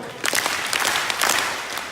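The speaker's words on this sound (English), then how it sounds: "I want everybody to clap their hands very hard 3 times" An audience clapping hard in unison, a few loud claps spread over two seconds with a roomy, crowd-like wash between them.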